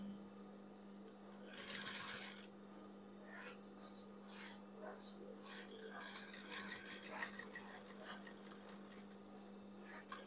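Sewing machine stitching a shirt collar, bursts of rapid mechanical stitching with a faint steady hum underneath, a short run early and then a longer rhythmic run, close but quiet, with a little talk in between.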